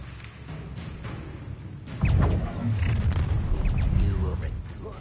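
A Confringo fire-blast spell in Hogwarts Legacy lands with a heavy, loud boom that rolls into a sustained low rumble and crackle, following a quieter stretch of spell combat.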